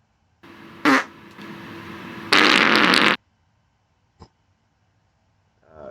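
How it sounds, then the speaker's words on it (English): A soundboard fart effect plays as a few loud, buzzy blasts, the last and longest a sustained raspy burst, followed by a short pop and a fainter trailing fart sound near the end, with no talking. "god, the fart noise, the fart board"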